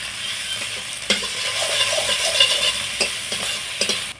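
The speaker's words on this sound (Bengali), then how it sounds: "আদা রসুনটাও একটু ভালো করে কষিয়ে নেব যাতে কাঁচা গন্ধটা চলে যায়" Ginger garlic paste sizzles steadily in a hot pan, a continuous close frying hiss broken by a few sharp clicks of a spatula stirring against the metal.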